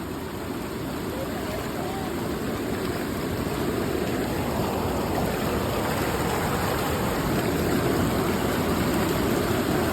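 The Yamuna river flows beside its bank on a mountain trek near Yamunotri, a steady, loud, broadband rush of water that stays constant from start to finish.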